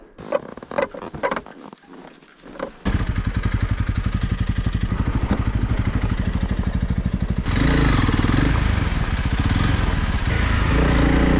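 Light motorcycle ridden off-road in winter, a loud close engine drone with rapid rhythmic pulsing that starts abruptly after some clattering, then grows heavier and rougher as it carries on alone.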